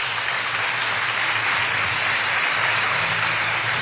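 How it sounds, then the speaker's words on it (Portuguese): A church congregation applauding the Gospel reading, a continuous dense wash of many hands clapping at once, steady and even, with no talk over it. "Vamos aplaudir o Evangelho,"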